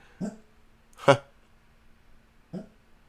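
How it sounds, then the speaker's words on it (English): Sandy the dog makes muffled barks in her sleep, three short soft woofs spaced about a second apart over a quiet room. "did you hear Sandy barking in her sleep right over there?"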